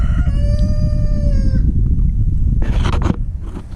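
A rooster kept in a duck pen crows once, loud and close, a long falling cock-a-doodle-doo, followed by faint clucking and a few brief scratchy bursts from the farm pen.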